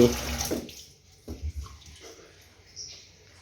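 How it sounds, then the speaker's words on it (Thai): Tap water runs into a pot for instant noodles, a brief rushing pour at the start that gives way to scattered splashes, clinks and small kitchen knocks, fairly close and moderately quiet. "ตอนแรกเปิดน้ำใส่หม้อ"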